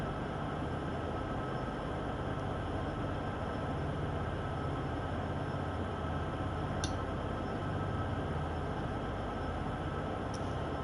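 A locomotive running light engine in the Train Sim World 5 video game gives a steady, even rumble and rail noise throughout, with a couple of faint clicks and no talking.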